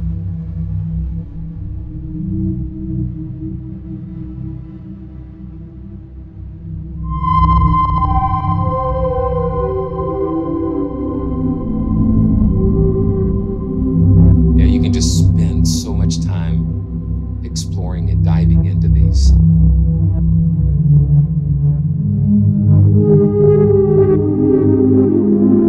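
Ursa Major soft snapshot from the Fracture Sounds TRAILS synth library, a slowly evolving sustained pad of layered tones that swells louder partway through, with sparkling high shimmers drifting over it, played alone.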